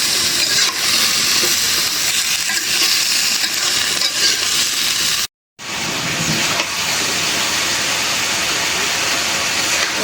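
Vegetable stalks sauté in a pan during preparation of a winter-vegetable curry, producing a steady broadband sizzle with stirring scrapes that cuts out briefly midway, then resumes at the same close, even level.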